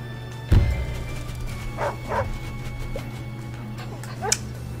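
A dog unit in the strategy game Wargroove barks once sharply and loudly, followed by a few fainter yips and a brief whip-like crack over a steady low game hum.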